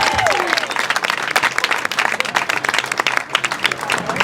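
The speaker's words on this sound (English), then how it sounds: "another round of applause for Drew Young and the Walking Phoenixes." An outdoor crowd at a trail dedication ceremony applauds loudly, dense clapping with sharp individual claps standing out, sustained and close, with a brief voice near the start.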